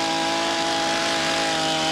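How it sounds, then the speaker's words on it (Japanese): A chainsaw whines steadily at high revs during chainsaw certification training, its engine drone loud and close as the chain bites into wood while the operator resists kickback. "チェーンソーが入った。"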